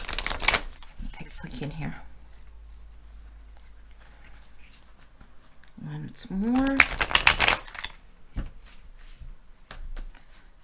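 A stiff, new Dark Mansion tarot deck being shuffled by hand; quick papery riffles and card slaps in short bursts, fairly close, broken up by someone speaking between shuffles.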